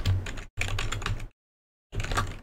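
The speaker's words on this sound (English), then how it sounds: "type in telefoxcorp" Keys clatter in quick bursts on a computer keyboard while entering a login name at a Windows sign-in screen, two dense runs of typing separated by a short pause, then a final burst after a longer silence.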